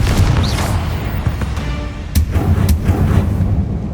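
Several Confringo fire spells explode in the Hogwarts Legacy video game, a continuous rumbling barrage with sharp cracking booms near the two-second mark and again shortly after. Close and loud throughout, with no talking.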